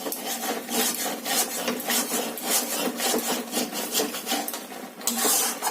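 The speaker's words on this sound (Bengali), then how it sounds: "সরটা আমি ভালো করে নাড়তে থাকবো" Milk cream for rabri is stirred in a pan, a close, rhythmic scraping and rubbing of the utensil against the pan that repeats in quick strokes throughout, with no talk.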